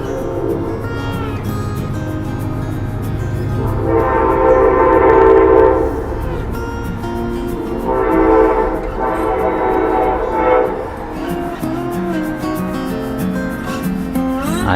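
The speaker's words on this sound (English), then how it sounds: "I even hear the train. Can you hear that train a-coming?" A train approaching at a pioneer heritage settlement in Barberville, Florida, its horn sounding in a few long blasts over a steady rumble, with other rail noise in the background.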